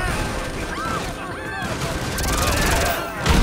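Gunfire in GTA5 at an underwater base, with the shooter in the water: a steady, dense rattle of shots runs throughout, and a voice talks over it.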